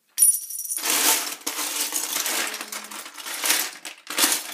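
A metal Star Wars coin is handled near at hand, giving a short bright clink followed by a few seconds of rustling and scraping, with a brief pause before more handling.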